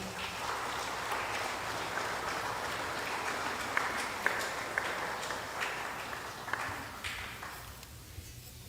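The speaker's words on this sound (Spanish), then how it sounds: "los recibimos con un caluroso aplauso" Church congregation in Santo Domingo, Sacapulas, Quiché, Guatemala, applauding in a steady, dense clatter of hand claps that runs throughout and thins toward the end.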